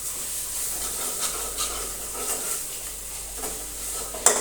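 Spiced flour is stirred into an okra masala curry in a pan, producing a soft, continuous frying hiss with intermittent spoon scrapes and a sharp knock near the end.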